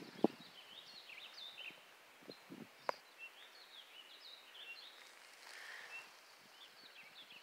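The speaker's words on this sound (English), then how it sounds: "I love the sounds of these birds." Small birds chirp and sing in trees on a forest hike, faint high twittering scattered through a quiet outdoor setting, with a few soft clicks and rustles nearby.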